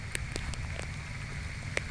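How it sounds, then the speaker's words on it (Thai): Rain falls outdoors on a farm where goats are kept, a soft steady patter with a few sharper drops striking a nearby surface over a low background rumble. "เอาฝนกำลังตกไปก่อน"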